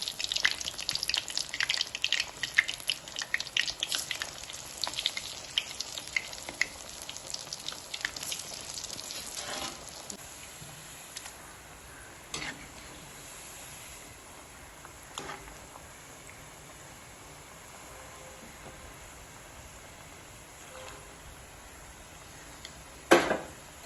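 Chickpea-lentil vadai fritters sizzle in hot oil in a pan, a dense crackling hiss that is loudest at first and gradually settles, with a few sharper pops and clinks near the end.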